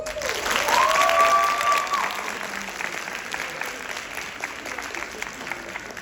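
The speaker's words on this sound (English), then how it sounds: "Let's give another round of applause for our College of Visual and Performing Arts." Audience applause at a university campus tour event for a college of visual and performing arts, a crowd clapping loudly at first and then tapering to a steady, softer patter.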